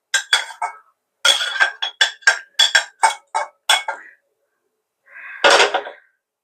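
Fried onion-garlic paste and its oil being scraped from a pan into a bowl for steamed egg curry: a quick run of sharp metallic clinks and scrapes, a pause, then one longer scraping burst, close and clear.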